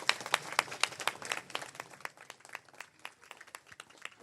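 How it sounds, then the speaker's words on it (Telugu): A church congregation claps during a golden jubilee celebration, distinct individual claps forming sparse, uneven applause that thins and softens toward the end. "గట్టిగా చప్పట్లు కొడదాం అందరం కూడా"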